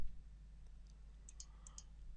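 A computer mouse gives a handful of quick, faint clicks in a quiet room, spaced close together near the end.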